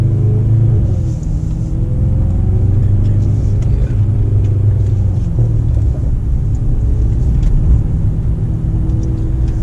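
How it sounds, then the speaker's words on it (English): A deep, steady exhaust drone from a Mercedes-AMG E63 S sedan cruising along, low and rumbling throughout with road noise, loud and close. "But you could hear the exhaust more. If you could hear that, that sounds great."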